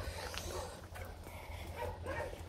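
Dogs at an animal shelter housing 174 dogs: faint, distant barks and yips scattered over a low steady hum, with a few whimpering sounds and no talk.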